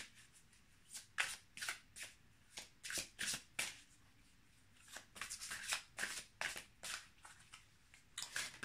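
Tarot cards shuffled and drawn, close and quiet, with a run of crisp riffling bursts in irregular rhythm, some clustered tightly and others spaced apart, without any talking.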